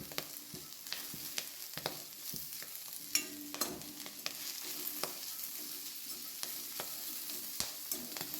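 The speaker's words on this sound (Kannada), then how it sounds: "ತೆಂಗಿನೆಣ್ಣೆ ಹಾಕಿಕೊಂಡಿದ್ದೇನೆ. ಈಗ ಇದನ್ನು ಫ್ರೈ ಮಾಡುವ." Frying in coconut oil over high heat makes a continuous soft sizzle, broken by irregular scraping clicks and knocks as the mixture is stirred, fairly quiet and with no talking.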